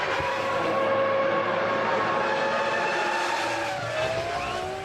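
A Formula 1 car from the 2001 season screams down the start-finish straight, its high engine note rising through the gears as it passes close and loud, then fading slightly.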